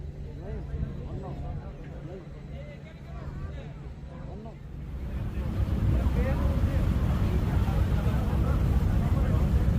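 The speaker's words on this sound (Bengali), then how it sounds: "আমাদের শিপটি এখন সেন্ট মার্টিনের উদ্দেশ্যে যাত্রা শুরু করল" Passenger ships MB Baro Awlia and Karnaphuli Express underway on the Bay of Bengal toward Saint Martin island: steady engine rumble with wind buffeting the microphone and water rushing past, growing louder halfway through, with voices faintly underneath.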